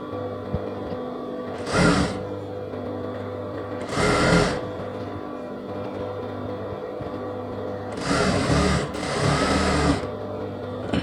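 Sewing machine stitching a folded hem on a semi patiala pant, short loud whirring bursts of needle runs separated by quieter pauses, four bursts in all, close up with no talking.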